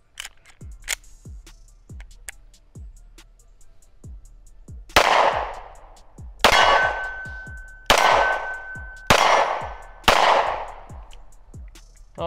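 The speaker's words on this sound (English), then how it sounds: "Let's do a little bit of shooting." Five loud, sharp gunshots fired at shooting targets ring out at steady intervals of about one and a half seconds, each with a decaying echo, following a run of fainter clicks and metallic taps.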